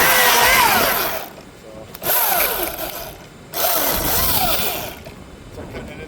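Chainsaw bucking a trimmed tree branch into 16-inch firewood chunks, loud revving bursts of cutting separated by idling lulls, close by, with engine pitch rising and falling.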